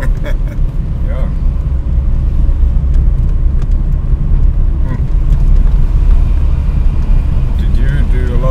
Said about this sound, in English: This is the right sort of car to be doing a historic tour in.